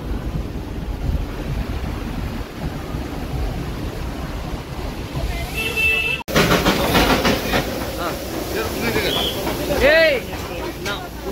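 At Ghum, India's highest railway station, the Darjeeling toy train stands during monsoon season. Low rumbling and hiss carry on throughout, with sharper clanks and brief rising whistle-like tones near the end, while people talk nearby.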